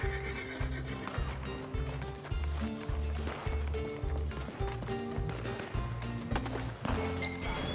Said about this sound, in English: Cow, you were the worst horse.